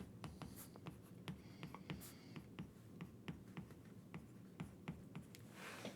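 Pen or chalk writing out a physics kinematics equation, a steady run of short scratchy strokes and taps, close and moderately loud, with no talking.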